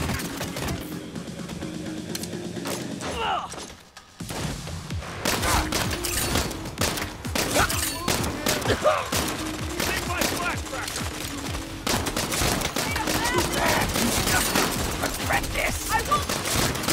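Relentless gunfire in the 2022 Saints Row reboot, thick bursts of rapid shots stacking over each other for most of the stretch after a brief lull, loud and close amid chaotic game noise.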